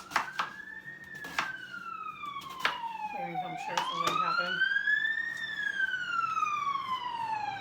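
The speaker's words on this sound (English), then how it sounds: "please excuse the noise in the background because these ambulances" Ambulance sirens pass by outside a home in a fire-prone area, a loud wailing tone sweeping up and down and swelling as it nears, with a voice talking over it and some clattering nearby.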